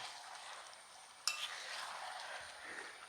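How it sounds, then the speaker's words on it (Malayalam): A duck roast with spices being stirred in a pan, with a steady close sizzle and scraping under one sharp clink of a utensil against the pan partway through. "ഇനി നമുക്ക് നമ്മുടെ താറാവിനെ എടുത്ത് കമത്താം. നന്നായിട്ട് മിക്സ് ചെയ്യണം."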